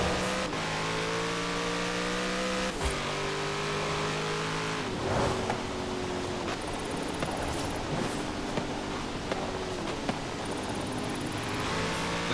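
Chevrolet Corvette engine in Forza Horizon 4, revving and shifting steadily through gears with rising and falling tones, loud and continuous throughout with no speech over it.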